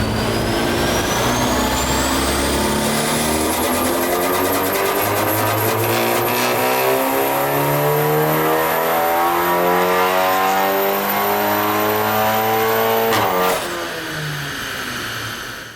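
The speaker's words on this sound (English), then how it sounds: "what you just witnessed there was compressor surge at the lower RPM, and that was under full acceleration as well" A VW Golf R Mk8 with a hybrid turbo pulls hard on a dyno at full acceleration, its engine climbing loudly and steadily in pitch while compressor surge flutters at low RPM, ending in a sudden drop as the throttle closes.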